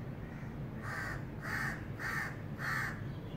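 A crow caws four times in a steady rhythm, each call harsh and drawn out, clear above a constant low background rumble.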